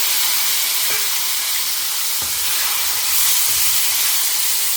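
Tomatoes sauté in a pot for a one-pot biryani, giving a loud, dense, steady hiss of steam and sizzling with a few faint knocks and no voices.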